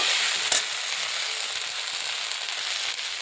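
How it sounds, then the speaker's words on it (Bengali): Okra, carrot and potato fry in a pan with a dense, continuous hiss and crackle, close and steady throughout, alone without speech. "এই যে ভেন্ডি ভাজা করছি ভেন্ডি ভাজাটা একটুখানি লেগে গেছে ভেন্ডি গাজর আলু দিয়ে একটু ভাজা করে নিলাম"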